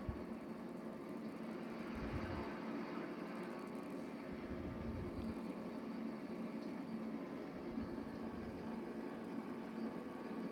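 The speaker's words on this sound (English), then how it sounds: "Oh, train." A freight train in the Train Sim World video game rumbles steadily throughout, a continuous low engine drone and rolling noise at even loudness with no talking.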